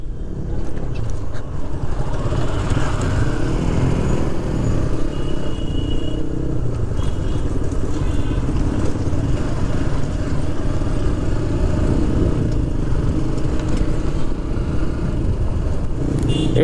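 A large group of motorcycles rolls together along a congested, dusty road, their engines forming a loud, continuous rumble and clatter with no breaks.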